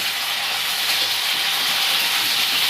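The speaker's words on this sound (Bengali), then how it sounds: "দিয়ে এটা ভালো করে ভেজে নেব যতক্ষণ না টমেটোটা নরম হয়ে আসে।" Chopped medium tomato fries with onions in a pan, giving a steady, loud, close sizzling hiss that carries on without pause.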